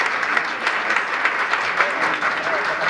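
An audience at an award ceremony honoring women applauds two doctors, steady dense clapping at moderate volume running throughout.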